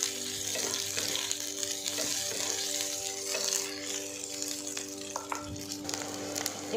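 Fried paneer cubes sizzle and hiss steadily in a hot kadai while being stirred, with faint scraping and clinks of the spoon against the pan; no talking.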